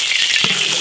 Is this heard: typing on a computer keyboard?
no